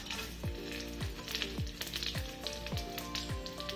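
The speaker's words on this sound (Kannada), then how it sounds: "ಮೊದಲಿಗೆ ನಾವು ಮಸಾಲೆಗಳನ್ನು ಹಾಕ್ಕೊಳ್ಳೋಣ" Whole spices fry in hot oil at the start of a rice dish, making a dense crackling sizzle that stays close and constant, with repeated sharp popping bursts and no voices.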